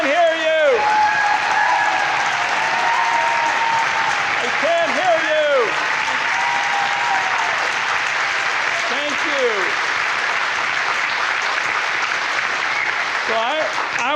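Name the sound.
town hall crowd applause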